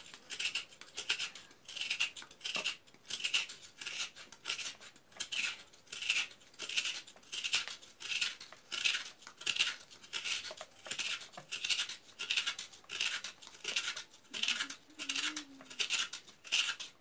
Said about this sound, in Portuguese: Rapando esse coco.